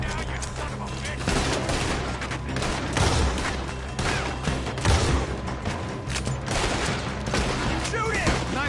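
Heavy gunfire in a Red Dead Redemption 2 shootout, a sustained barrage of rapid shots and bursts, loud and close, with shouted voices over it.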